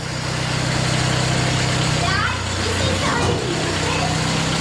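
A Kubota engine running steadily on a cheap portable TMG-PSM26 sawmill, a loud, even drone throughout, with people talking over it.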